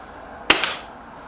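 A Stoeger XM1 Bullshark air rifle fires a single sharp, close crack toward a bullseye target, followed by a quick faint secondary snap.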